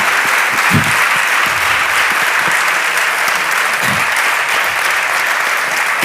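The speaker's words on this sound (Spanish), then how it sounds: "Un aplauso por los maridos." Audience applause at a literary festival event with two novelists, loud, dense and steady, a full hall clapping continuously without a break, with a few low thumps mixed in.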